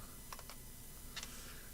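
Faint computer keyboard typing: a few quick clusters of key clicks, soft and somewhat distant, over a steady background hiss with no talk.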